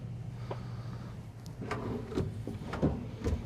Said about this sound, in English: full extension drawer glides